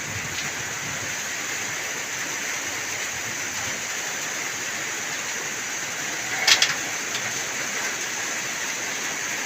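Steady heavy rain in northeastern Thailand (Isan) hisses without a break, a dense even wash of falling water with a brief sharper spatter partway through.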